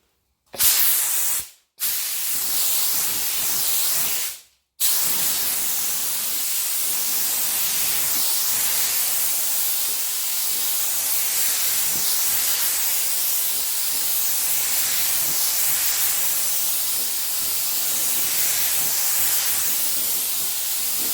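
An aerosol can sprays Ghost Gold paint over a Desert Tan base coat in short bursts, then one long continuous hiss, loud and close.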